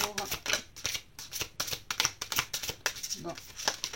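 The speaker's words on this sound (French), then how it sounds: "On va tirer une deuxième carte." Tarot cards shuffled and handled close up during a reading: rapid, irregular papery flicks and snaps in quick succession, with a voice speaking softly beneath them.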